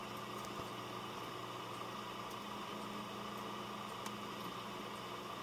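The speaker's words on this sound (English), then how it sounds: "A lot of the noise you're hearing is the power supply fan." Steady, even whirring hum of the power supply fan in a Dell Optiplex GX280 small-form-factor desktop PC, constant and fairly quiet with faint ticks, continuing alone without variation.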